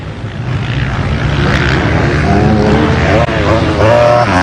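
A Yamaha motocross bike races around turn 1 at Hastings Valley, its engine a loud, rising buzzing whine that climbs in pitch, with broad track noise underneath.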